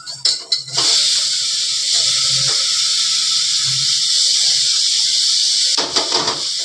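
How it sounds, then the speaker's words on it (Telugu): Tomatoes go into a hot pan of fried amaranth greens, onions and green chillies, setting off a loud, steady sizzle and hiss close by, with a few utensil clatters at the start and end. "ఇప్పుడు దీంట్లో టమాటా వేసుకోవాలి"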